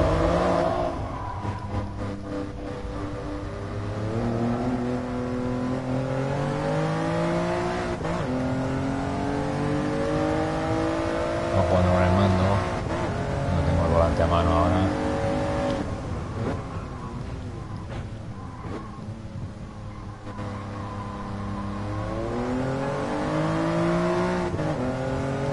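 The Toyota Yaris GR engine in the racing game Gran Turismo GT Sport revs and rises in pitch, dropping at each gear change, loud and continuous for the whole stretch.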